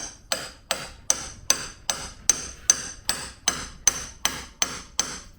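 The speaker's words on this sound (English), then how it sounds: "take my 27 millimeter, which fits perfectly around the outside, and tap it in" A 27 mm socket taps a fork seal into a Honda CRF/XR70 front fork leg, giving thirteen sharp, evenly spaced metallic knocks about two per second, close and clear with nothing else heard.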